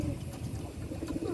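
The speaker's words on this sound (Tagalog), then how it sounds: "So ayan, ito yung mga kalapati natin" Domestic pigeons packed into a crowded coop coo in a steady low murmur of overlapping calls, close and continuous throughout with no talk.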